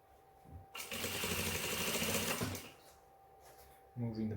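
A sewing machine runs in a steady burst of about two seconds while stitching the waistline of a pair of pants, with quiet handling noise before and after and a brief voice at the end.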